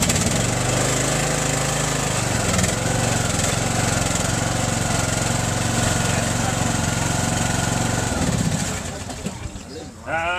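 At a farm auction, a John Deere 265 lawn tractor engine runs at a steady idle close by with people talking over it, then the engine note drops away near the end.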